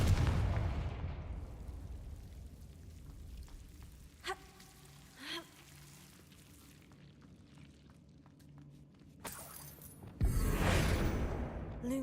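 Confringo fire-blast spell cast in a Harry Potter game, a fading explosive rumble at the start, a few sharp magical pops midway, and a loud burst near the end.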